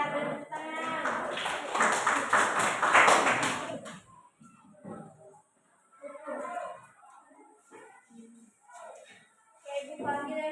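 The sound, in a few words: class applauding a correct answer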